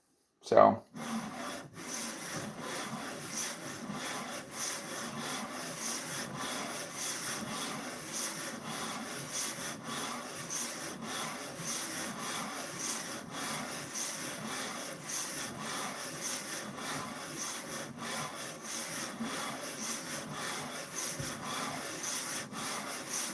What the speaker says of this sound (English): This sandpaper is a wet sandpaper if you want it to be.